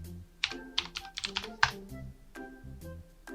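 Typing on a computer keyboard comes through as close, irregular clacking keystrokes in short bursts with small pauses between them. No one speaks.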